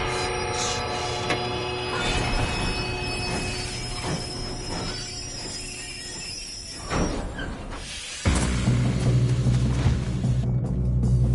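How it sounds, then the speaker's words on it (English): A train in Red Dead Redemption 2 rumbles and clatters along with high steel wheel squeals and a sustained horn-like tone, growing louder and heavier near the end as a deep rolling roar takes over. "We have to stop this train."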